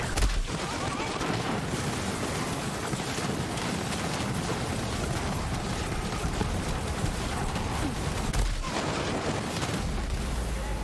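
Borderlands 3 gunfire from a Moze build with Iron Bear, a dense, loud, continuous roar of rapid shots and blasts with brief dips, no speech heard.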